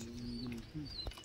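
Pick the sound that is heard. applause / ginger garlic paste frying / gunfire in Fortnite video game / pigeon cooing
pigeon cooing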